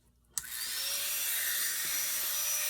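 A rotary tool fitted with a 2 mm diamond ball bit carves into wood while shaping an otter's head, starting with a sharp click and then running as a steady, close, high-pitched whine with grinding hiss.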